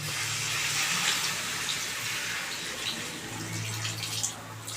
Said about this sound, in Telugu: ఇప్పుడు ఇది ఇట్లా కొంచెం కారం స్మెల్ అనేది పోయేదాకా వేగిన తర్వాత ఇందులో కొంచెం వాటర్ వేసుకోవాలి.